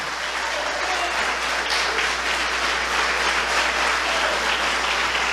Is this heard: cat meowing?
no